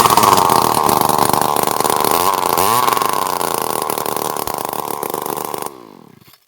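A John Deere weed eater, just repaired, runs loud and close at a high buzzing rev with small fluctuations before cutting off and winding down into silence.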